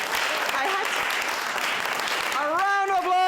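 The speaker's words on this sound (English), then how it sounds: "A round of applause for Cindy Belrucci." An improv theatre audience claps steadily, a full room of applause with a voice speaking over the end of it.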